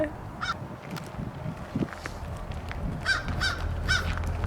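A raven calls in a graveyard setting, giving a few loud, hoarse barking croaks in a short burst near the end, with scattered earlier calls over steady outdoor background noise.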